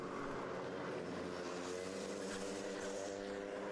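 Racing karts on the track at a kart championship round at Llandow, a continuous buzzing engine roar with rising and falling revs as the karts drive, loud and steady without speech.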